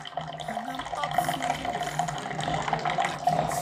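Hot water gushes steadily from the tap of a homemade instant water heater, a continuous splashing stream that stays close and fairly loud throughout.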